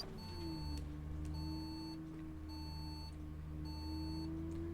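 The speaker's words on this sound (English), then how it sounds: "there's a little click after the beep on the indicator" A bus indicator in the video game OMSI 2 beeps electronically four times at a steady pace over a low engine hum, each beep ending in a faint click.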